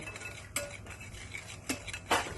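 A spoon scrapes and clinks faintly against a bowl while gram flour (besan) is stirred, with a few sharper knocks standing out from a quiet, soft background.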